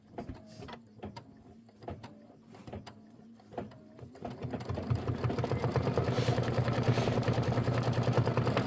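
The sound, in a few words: sewing machine stitching a quilt block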